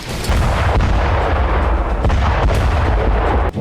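Missile strikes explode across Sanaa at night in a continuous barrage of heavy booms and rumbling blasts, loud and layered, with no voices.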